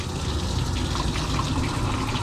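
Hot water gushes steadily from a tap into a mop bucket, a loud, continuous rushing fill with no pauses, close by and alone.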